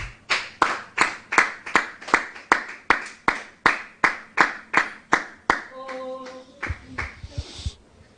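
Steady rhythmic clapping of hands in a church service, about fifteen even, loud claps in a row, then breaking into looser, scattered applause that fades out.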